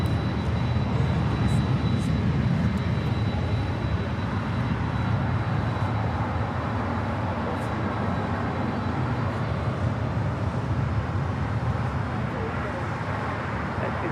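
An Airbus A350-1000 arriving from London lands on the south side at LAX, a broad steady engine roar that holds throughout, with a voice talking over it.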